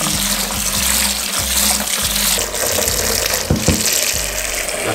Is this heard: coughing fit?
no